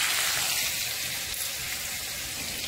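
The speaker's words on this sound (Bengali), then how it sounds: "তো টমেটোটা দিয়ে আমি ভালো করে একটু ভাজা ভাজা করে নিচ্ছি।" Chopped tomatoes with a little salt fry in a pan alongside potatoes, giving a bright, steady sizzle close by that settles slightly as it goes on, with no talking.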